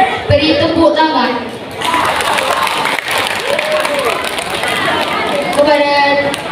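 Audience applause for a school council candidate after a campaign speech, with clapping and crowd noise mixed with chatter, and a voice talking over parts of it.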